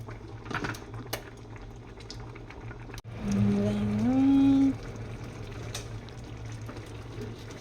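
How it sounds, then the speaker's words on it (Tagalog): A pot of mung beans bubbles and boils steadily on the stove, with a clink of cookware and a brief sustained tone partway through. "Kumukulo na, kumukulo na."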